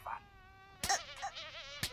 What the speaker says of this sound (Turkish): Odada bir sinek var.